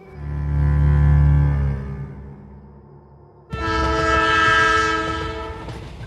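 An animated train scene: a loud deep horn blast fades out, then a bright, sustained high horn or whistle cuts in abruptly over the rumble of the running train.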